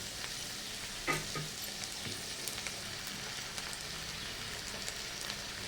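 Brinjal curry cooking with ginger garlic paste gives off a soft, even sizzle with scattered pops and the odd scrape of stirring, quiet and close.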